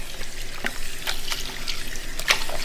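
Raw beef being rinsed under a running tap for a Kerala-style beef curry, a steady close wash of water broken by brief splashes and sloshes as the meat is handled in the sink.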